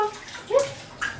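Water moving in a bathtub while a woman bathes with a dog: soft, faint sloshing with a couple of brief splashes, close and quiet, no talking.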